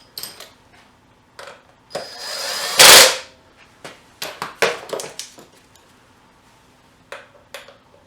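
Short whirring bursts of a power tool tighten 10mm bolts during reassembly of a Nissan Infiniti VK45DE 4.5-liter V8 engine, with one longer loud burst and scattered clicks and clatter around it.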